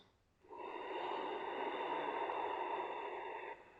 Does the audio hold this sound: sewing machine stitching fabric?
no